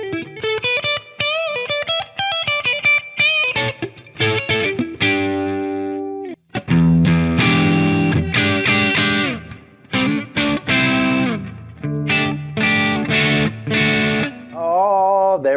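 An Epiphone Jimi Hendrix Flying V electric guitar in the middle pickup position plays chords and single notes with a washy reverb tail, distorted and effect-laden, steady and up close with no talking.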